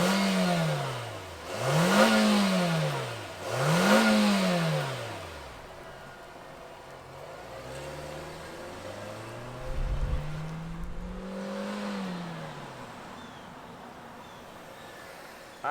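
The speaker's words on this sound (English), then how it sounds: "let's fire it up and see it in motion" A 2023 Nissan Versa SR sedan engine starts and revs sharply three times in quick succession, then settles into a softer, rising and falling drone as the car pulls away and drives, with no talking.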